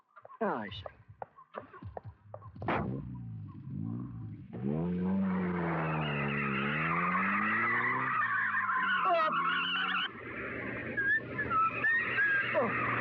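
Car driven fast with tyres skidding: sharp squeals and screeching slides rise and bend through the clip, with bursts of speech and exclamations around them.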